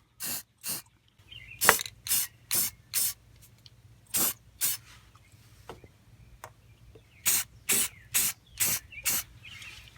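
A can of Rust-Oleum spray paint coats a car frame in a series of short, sharp hissing bursts, each about a quarter second long, close and loud, spread across the clip with pauses between them.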